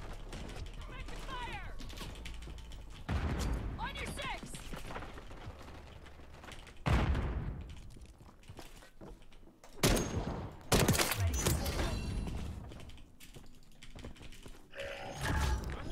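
Sniper rifle fire in Call of Duty MW3 played on keyboard and mouse, sharp sudden bursts cutting through constant in-game mechanical clatter and faint key clicks, several shots spaced seconds apart.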